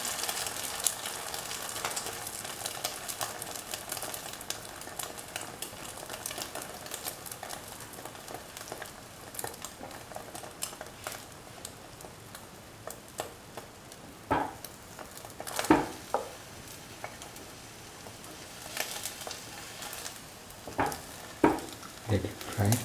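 An egg-dipped sandwich fries in a pan, a steady broadband sizzle running throughout with occasional louder crackles and pops toward the end.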